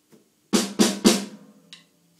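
Three quick drum strokes played as an eighth-note triplet, evenly spaced and close, each ringing briefly, followed by a fainter lone hit.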